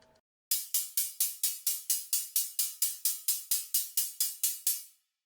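Sixteenth-note percussion pattern programmed in Reason, playing solo: about sixteen evenly spaced, bright hi-hat-like ticks with a quick decay, steady and close.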